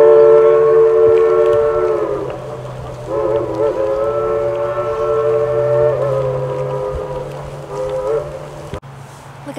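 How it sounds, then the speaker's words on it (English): A train sounding near a Christmas-lit bridge at Pigeon Forge, Tennessee, with long sustained tonal horn or whistle blasts over a low steady rumble, loud and close, pausing briefly and resuming. "Is that train now?"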